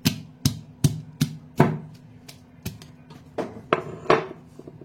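Garlic cloves are tapped to loosen their papery peel, giving about a dozen sharp, close knocks on a hard kitchen surface, quick at first and then more spaced and uneven.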